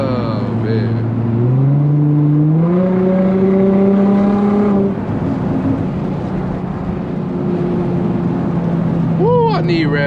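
Infiniti G35 with a manual-mode automatic and no traction control revving hard through pulls: a loud, close engine roar climbing in pitch through successive gears, then easing to a steady drone before a short final rev, with brief voice exclamations.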